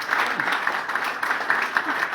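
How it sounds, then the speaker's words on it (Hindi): Steady, dense applause from a seated audience at an IMC Business training program, many hands clapping continuously at an even level throughout. "ताली दो, ताली बजाओ"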